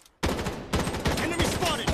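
Gunfire from the video game Project: BloodStrike, rapid automatic bursts after a brief silence, loud and close, rattling continuously with scattered voice callouts beneath.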